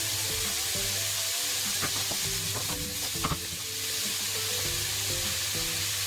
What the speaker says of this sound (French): à la poêle, je fais revenir donc, quelques lardons avec des petits pois et des oignons